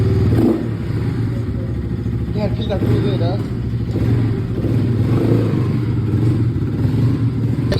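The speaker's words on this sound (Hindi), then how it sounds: "अभी बाइक टेस्ट कर रहे हैं" A motorcycle engine with a misfire idles and revs unevenly up close during a test ride, with clattering mechanical noise and people talking nearby throughout.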